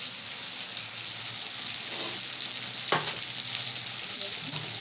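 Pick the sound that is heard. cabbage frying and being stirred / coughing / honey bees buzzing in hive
cabbage frying and being stirred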